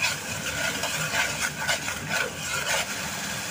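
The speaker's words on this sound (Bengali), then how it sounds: "এখন আমি মশলাগুলো কিছু নেড়ে চেড়ে কষিয়ে নিচ্ছি।" Spices with ginger garlic paste and salt are stirred and fried in a pan, giving a continuous soft sizzle with scraping and rubbing strokes of the spoon throughout, fairly quiet and close.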